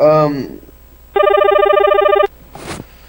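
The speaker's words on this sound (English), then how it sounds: "Oh, you got one call coming in now." An electronic telephone ringtone plays a steady pulsing tone for about a second during a live broadcast, preceded and followed by someone talking.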